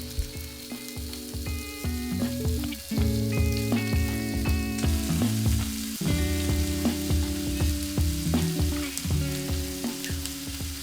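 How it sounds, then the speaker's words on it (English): Steady sizzling of chicken frying in a hot oiled pan, continuous and fairly loud throughout, with occasional soft scraping or stirring sounds and no talking. "Once the oil is hot, add your chicken."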